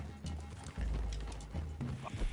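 A horse in the Western game Red Dead Redemption 2, heard snorting and shifting with hoof clops nearby, fairly quiet and close among low ambient rumble, with no talking.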